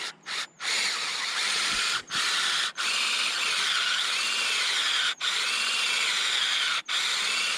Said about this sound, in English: So drilling at an upward angle.